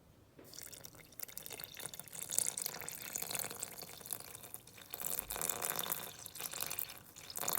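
Water, 250 g weighed on a kitchen scale, pouring into a Thermomix bowl as a steady, bright splashing stream that runs continuously throughout, fairly close and with no voices.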